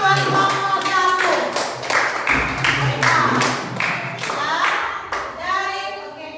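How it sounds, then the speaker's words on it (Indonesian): Students in a classroom clapping for a group, a close, lively burst of uneven hand claps with rhythmic patches, mixed with a few voices calling out. "tepuk tangan buat kelompok 1."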